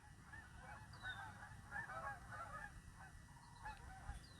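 Geese honk in a scattered series of calls, moderately distant and faint over a steady background hum, several overlapping squawks spread across the few seconds.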